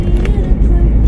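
A car driving along a winding road near Coniston lake, a steady low engine and road rumble running throughout at close range.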